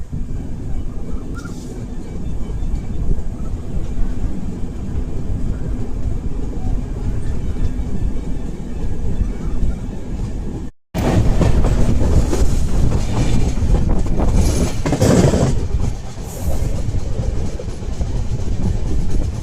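The Arunachal AC SF Express rolls into Barauni Junction with a loud, continuous rumble and clatter of wheels on track, a brief dropout midway, then a heavier rattling roar with some squeal and faint voices.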